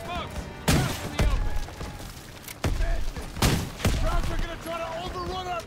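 Gunfire in the Call of Duty: WWII campaign on Veteran mode, with repeated loud bursts and heavy thumping shots over a noisy battlefield while voices shout throughout.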